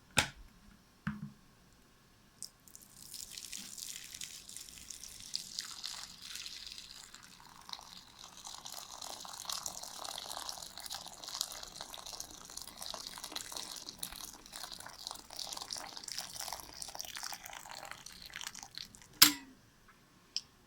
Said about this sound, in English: I preemptively boiled some water, and I'm going to add to this mixture